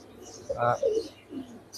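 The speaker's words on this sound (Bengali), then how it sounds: "এটা সম্ভবত নর, ডাকাডাকি করতেছে।" A male pigeon in a cage at a pigeon market gives one short, close, throaty coo over quiet background noise.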